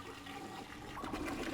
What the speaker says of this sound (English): I am flushing the toilet.